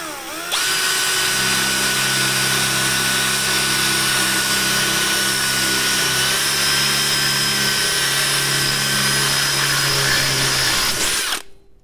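A power drill runs at speed setting 2 into a lubricated spot. It holds a steady, loud, high-pitched whirring drone for about eleven seconds, then stops abruptly, with no talk.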